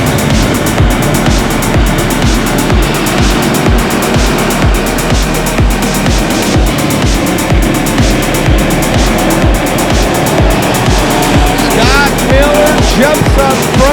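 Race cars battle for the lead at Grays Harbor Raceway on championship night, engines roaring loudly and continuously with a rhythmic pulsing as the pack laps the track.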